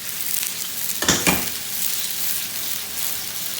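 Food tossed in a hot sauté pan without a spoon while cooking brunch, giving a steady sizzle and fry with a brief rushing toss-and-clatter burst in the middle, close and fairly loud.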